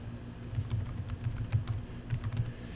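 Keystrokes patter on a computer keyboard in an irregular run of quick, light taps, close and fairly quiet, while a network admin enters settings on screen, with no voices.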